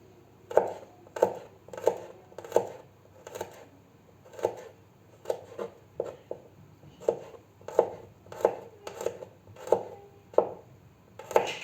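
A knife chops garlic steadily on a cutting board, about twenty sharp close taps in an irregular rhythm with brief pauses, no talking.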